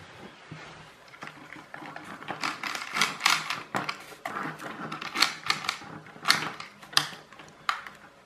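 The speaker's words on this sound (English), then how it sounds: "I sharpen the end of the barbecue skewer with a pencil sharpener" A pencil sharpener grinds the end of a barbecue skewer for a junk-pile clockwork car, giving close, rhythmic bursts of dry scraping that grow sharper and louder as it goes.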